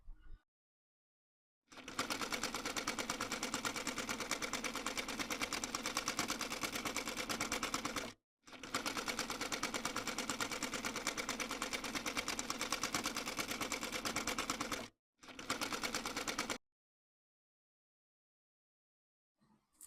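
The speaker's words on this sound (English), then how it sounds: "I'll be attaching it this way and sewing it down with half-inch sewing allowance." Sewing machine stitching dress panels at a half-inch seam allowance for a bubu design, running steadily in three long runs of fast, even stitching separated by short pauses, close and alone.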